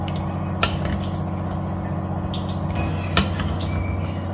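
A metal lid set down on a pot of chana masala, with two sharp clanks about two and a half seconds apart over a low steady background hum, with no talking.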